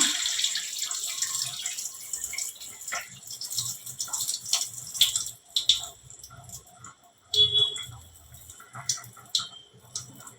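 Boiled water is drained off a pot of rice, splashing and trickling in uneven bursts with small clinks between pours.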